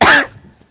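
A single harsh cough from an audience member during an Indonesian-language dawn religious lecture in Tokyo, loud and close at first, then trailing off into quiet room tone.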